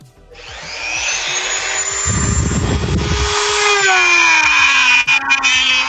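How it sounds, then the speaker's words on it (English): A rotary drill whines steadily while shaping and hollowing a custom action figure head, a loud continuous tone that shifts pitch as it bites into the material, with a burst of grinding partway through. "Pardon the drill noise."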